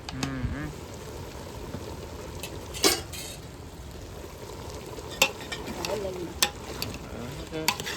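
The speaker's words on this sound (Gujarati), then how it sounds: "હલાવી નાખ્યું છે શાકને." A spoon stirs broiler chicken curry with turmeric in a pan, giving sharp scraping clicks now and then over a quiet, steady sizzle of frying.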